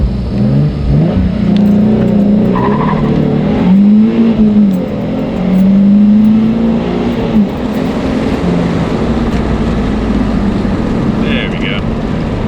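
A twin-turbo Nissan 300ZX with a swapped NA rear subframe revs and accelerates hard, its loud engine note rising and falling in sweeping surges, with voices briefly heard over it.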